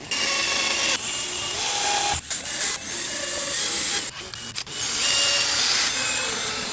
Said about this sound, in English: here is an inside pipe cutter. It's just an attachment that goes on your drill